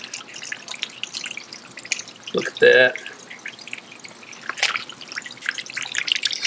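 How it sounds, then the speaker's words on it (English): Dirty water draining from a container of washed crawfish, a steady trickling pour under nearby speech, with a brief louder splash or scrape in the middle. "Still dirty water coming out."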